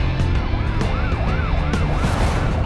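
An ambulance siren wails in rising and falling loops through Bangkok traffic, loud and close over the rumble of engines.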